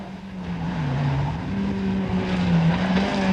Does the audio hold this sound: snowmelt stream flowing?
no